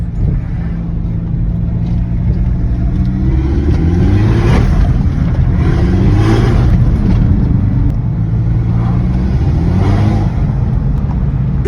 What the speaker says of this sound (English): The minute I put any throttle down, it just revs the fuck up.